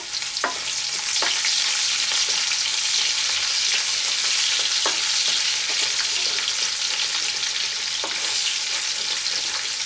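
Chopped onion frying in a pan with no extra oil added makes a continuous loud sizzle, broken by several sharp pops and clicks spread across the stretch, with nobody speaking.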